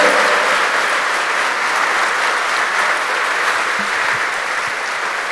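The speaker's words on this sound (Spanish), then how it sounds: "Dale un fuerte aplauso al Rey de Reyes." Sustained, loud applause from a church congregation, steady and dense with no break, filling the whole stretch.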